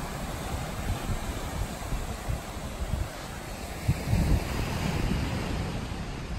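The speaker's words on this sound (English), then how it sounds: "Now we are looking at those surfing waves at Bondi Beach." Surf breaks continuously at Bondi Beach in Sydney, a steady close roar of waves with gusty wind rumbling across the microphone and a few louder swells midway. No one speaks.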